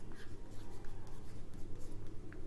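Chalk or marker strokes scrape steadily across a board during a chemistry lesson, a continuous soft scratchy rubbing over a low electrical hum, with no voice.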